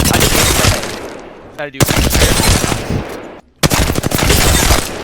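Rapid automatic bursts from an R-301 rifle in Apex Legends' firing range, loud and close, in three long strings split by short pauses, with a brief spoken word between them.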